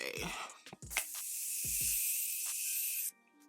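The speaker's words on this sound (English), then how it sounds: "We're gonna spray with Morphe." Morphe setting spray misted from a bottle during makeup application, a steady close hiss lasting about two seconds after a few short taps and handling clicks.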